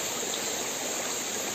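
Water stream flowing down a hillside, a steady, dense rushing and splashing that stays close and constant for the whole short stretch, with no voices.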